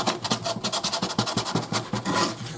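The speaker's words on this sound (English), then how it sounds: "I'm going to take some 60 grit sandpaper, which is really, really rough sandpaper, and I'm going to kind of smooth out some of these bumps" Rough 60 grit sandpaper rasps back and forth over a dry, lumpy homemade Jacob Marley door knocker, quick rhythmic scratchy strokes close up, about a dozen in a row before a longer final rub.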